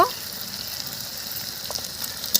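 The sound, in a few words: spices with turmeric and salt frying for potato dum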